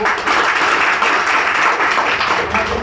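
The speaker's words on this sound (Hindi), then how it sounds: "सबके पहले एक स्वागत साथ जोरदार ताली के साथ स्वागत करो" An audience at a village committee meeting in India applauds newly elected officials, dense continuous clapping from many hands, loud and even throughout, no voices standing out.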